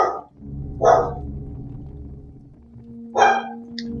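A dog in Resident Evil Zero barks in two loud, separate bursts about two seconds apart, heard alone without speech over a low background drone.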